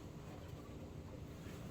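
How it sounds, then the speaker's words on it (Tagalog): Strong wind blowing outdoors near a shop, a continuous low rushing roar with wind buffeting the microphone, faint and steady throughout with no speech. "Nikusog ang hangin anak."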